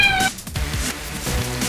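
A cat meows clearly and close by, a short high cry that breaks off, followed by softer low murmuring sounds, with no talk.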